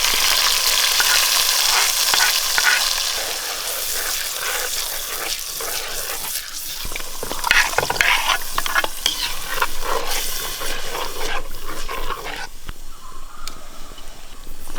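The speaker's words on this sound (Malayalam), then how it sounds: "അരച്ച് വെച്ച അരപ്പ് ചേർക്കാം." Ground coconut paste stirred into a sardine curry as it fries, giving a loud, close, continuous sizzle with steady scraping and stirring strokes and a wet, bubbling texture, no voices.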